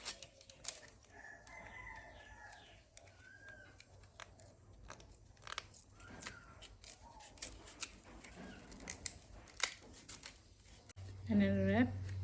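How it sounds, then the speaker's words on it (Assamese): Sharp scraping, cracking snaps of bamboo being cut and split into thin strips, in irregular bursts, with a rooster crowing in the background and a person talking at times. "ফালি ফালি যাব লাগে ডাল ডালকৈ সৰু সৰুকৈ।"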